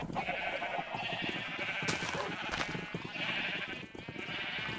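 Sheep bleat repeatedly in a video game over a busy, steady background of ambient sound, several calls overlapping with no talking.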